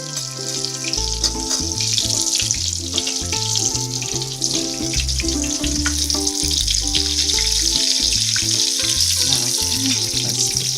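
Mozzarella sandwich skewers deep fry in hot oil with a continuous bubbling sizzle, heard close and steady over background music.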